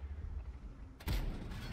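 Tank gun shot bouncing off armour in World of Tanks, a sudden heavy boom-like impact with a sharp metallic edge, breaking into quiet engine rumble and then ringing off.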